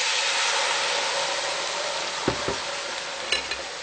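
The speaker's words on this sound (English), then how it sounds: "Putting my brajol back in. Adding in a cup of red wine." Red wine is poured into a hot pan of braciole and onions, setting off a broad, steady sizzle and hiss, with a few soft knocks of a utensil against the pan near the end.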